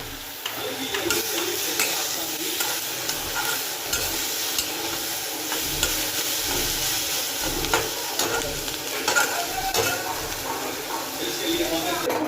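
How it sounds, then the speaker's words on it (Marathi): Paneer tikka masala roasts and is stirred in a hot pan, giving a continuous loud sizzle with scraping stirs throughout, while a voice seems to talk underneath. "सो आता याला एवढं ब्राऊन होसपर्यंत रोस्ट करून घ्यायचं आपण"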